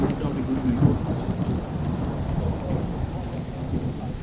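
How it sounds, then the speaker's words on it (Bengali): Thunder rumbling low and continuous through steady rain in an outdoor setting during traditional fishing, a dense close patter over the deep grumble with no distinct claps. "বৃষ্টি মোটামুটি গুড়গুড়ি করতেছে"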